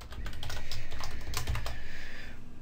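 Rapid, close typing of CSS code on a computer keyboard, a dense stream of loud clicks filling the whole moment with no talking.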